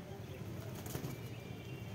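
Several pigeons take off from a loft, a faint, distant flutter of wingbeats over steady outdoor background noise.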